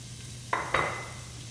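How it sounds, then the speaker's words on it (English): Chopped onions and celery hit a pan of hot oil with two sharp sizzling bursts that settle into a steady frying hiss, close and fairly loud, with no talking. "I'm going to start sweating the celery and the onions"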